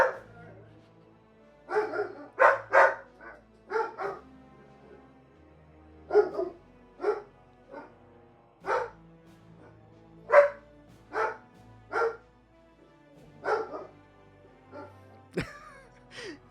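Dogs bark in a series of short, sharp, separate woofs and yips with pauses between, moderately close, with a brief whimper-like sound near the end and no talking.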